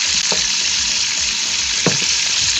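Red chilies sizzling in hot tadka oil for an aloo and kachnar dish, a loud, dense continuous frying hiss with faint stirring scrapes.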